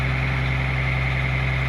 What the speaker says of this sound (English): So meaning to say the engine is in a good power.